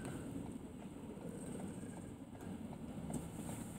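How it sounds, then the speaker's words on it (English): An elevated SkyTrain, a computer-controlled light rapid transit train, gives a steady low rumble with faint rail noise, moderately close and continuous throughout. "It's a light rapid transit system controlled by computers"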